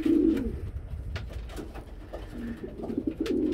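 Pigeons in a small breeding loft give low, throaty coos, one loud and close at the start, then softer repeated coos and rustling, with faint talk in the background.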